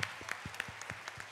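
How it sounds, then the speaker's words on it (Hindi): Audience applause at a college annual gathering, a steady patter of hand claps from a crowd, moderately loud and continuous. "बजाओ ताली और जोर से"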